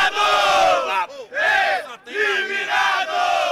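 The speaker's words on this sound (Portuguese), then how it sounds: "Que torcedores será que são esses que estão gritando eliminado, hein?" Rival football supporters shout a chant in unison at the Atlético team bus as it leaves the airport, a loud massed crowd of voices in repeated bursts with brief pauses between.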